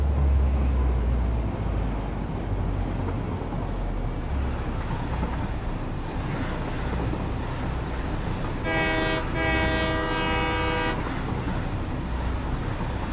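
A monorail train runs steadily in the video game Satisfactory, a continuous rumbling roll with a loud horn-like tonal blast sounding for about two seconds partway through.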